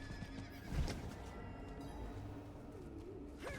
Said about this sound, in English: as I'm slowly sprinting on my cantering horse